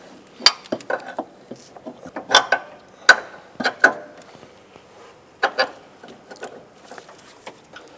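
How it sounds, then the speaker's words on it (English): Metallic clinks and ratcheting taps from a wrench tightening a transmission mount bracket on a 2004-2008 Acura TL, sounding in short irregular bursts up close with quiet pauses between. "let's go ahead and get our wrench on there and we'll tighten that down"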